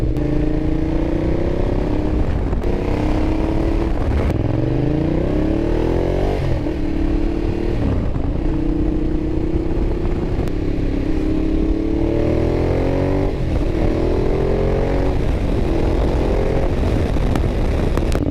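A 2012 Ducati Diavel engine in urban mode revs and accelerates repeatedly, pitch climbing through gear changes, loud and close with steady wind noise.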